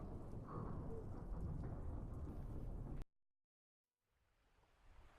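A rain and thunder ambience plays as a dense, loud roar of rain with rumbling thunder, cutting off abruptly to silence, then returning faintly and building again.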